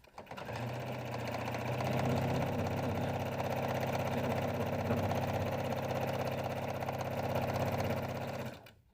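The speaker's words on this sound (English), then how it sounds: "we're going to step to our machine and top stitch down both long sides of both of our handles" A sewing machine top-stitches down the long sides of fabric bag handles, running loud and close in one continuous steady whir for several seconds before stopping, with no talking.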